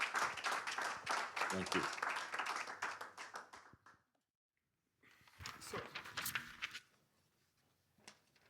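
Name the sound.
audience applause for workshop participants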